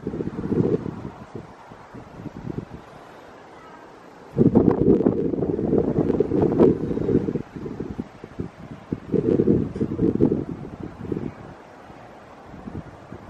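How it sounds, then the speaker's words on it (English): Strong wind gusts buffet the microphone at an abandoned iron works, in surging waves of low roaring noise that rise and fall over the whole stretch. "that wind's picking up"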